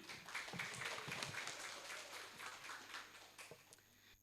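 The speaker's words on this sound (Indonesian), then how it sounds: "mari tepuk tangan untuk ketiga narasumber kita yang hebat ini" An audience at an information session on Paskibraka selection in Bandung claps for three speakers, a faint, fairly distant patter that swells briefly and then thins out.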